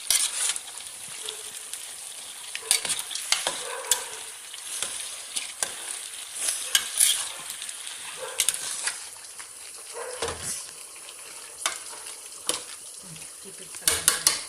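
Chicken with spices and salt fries and sizzles loudly in a pot, broken by repeated scraping and clinking as a spoon stirs it, close and continuous with no talk.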